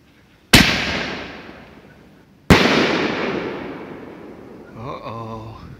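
Fireworks are test-fired outdoors, with two loud sharp bursts a couple of seconds apart, each trailing off in a long crackling decay, and a voice speaks briefly at the end.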